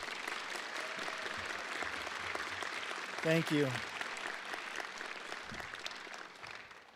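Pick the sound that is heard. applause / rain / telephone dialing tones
applause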